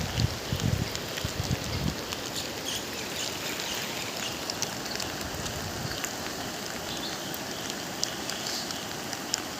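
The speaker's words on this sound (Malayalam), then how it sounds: "തോട് കവിഞ്ഞൊഴുകുവാണ്." An overflowing stream after its banks have breached in several places rushes steadily, a dense continuous roar of water with a constant hissing wash, no voices.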